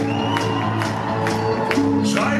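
A live concert crowd at a show in Oberhausen screams and claps, a dense roar of cheering with rhythmic claps pulsing through it, loud and close, over a sustained low musical drone.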